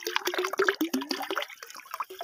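Water of a chlorine solution splashing and sloshing in a container, a quick series of close wet splashes and drips, heard alone.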